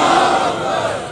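A large crowd at a religious conference shouts a loud, unified chanted response to a slogan, one sustained roar of many voices that fades slightly at the end.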